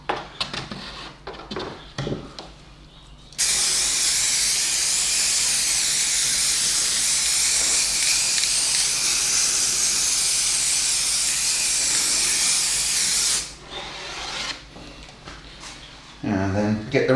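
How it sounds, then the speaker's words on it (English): Lacquer spray from an aerosol can hisses loudly and continuously for about ten seconds over an OO gauge model railway dock layout, framed by quieter handling clatter before and after. "spray lacquer"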